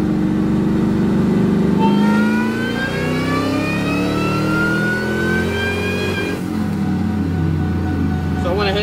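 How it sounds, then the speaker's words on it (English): A supercharged truck engine on a dyno revs loudly, its pitch climbing steadily with supercharger whine until it hits the rev limiter and drops off, then idles roughly. "So I went ahead and let the rev limiter stop me."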